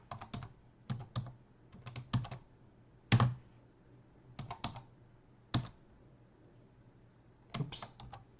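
Keys on a computer keyboard being typed in short irregular bursts with pauses between, close and fairly quiet, with no voices.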